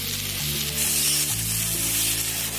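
Vegetables seasoned with black pepper are stirred in a hot, sizzling pan for a Chinese chicken sizzler; a steady bright hiss runs throughout over a low tonal background hum.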